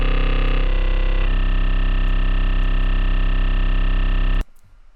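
An 808 bass synthesized in Serum drones loud and distorted, its tone shifting as the waveform changes twice early on, then holding steady before stopping sharply.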